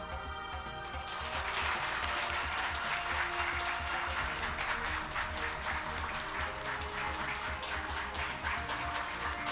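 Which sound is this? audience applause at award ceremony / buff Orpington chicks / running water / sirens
audience applause at award ceremony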